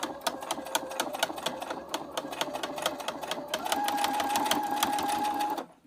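A sewing machine runs steadily, sewing basting stitches through fabric for a plush fox toy. The rapid needle clatter is close and continuous, rising slightly in pitch and speed partway through before stopping abruptly.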